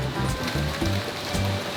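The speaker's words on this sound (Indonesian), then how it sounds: "Hujan guys." Steady broadband hiss of rain falling outdoors near a shop and parked car, continuous and fairly close, with faint low voices murmuring underneath.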